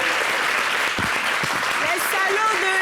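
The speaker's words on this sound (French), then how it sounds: "Est-ce qu'on peut applaudir," A studio audience on a French holiday television show claps loudly and continuously for a few seconds, close and dense, with a voice speaking over the applause near the end.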